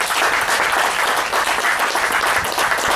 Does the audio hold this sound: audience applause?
yes